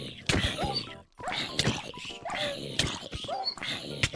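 A dog in the Minecraft video game being killed, its yelps and whines mixed with other game noises, heard close and loud under excited overlapping talk and laughter across the whole stretch.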